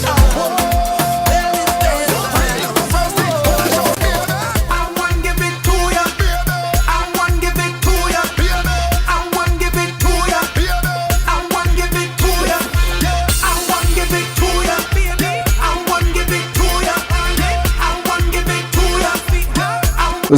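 Soca song remix plays loud and continuous, with a driving steady beat, thick bass and full instrumentation throughout.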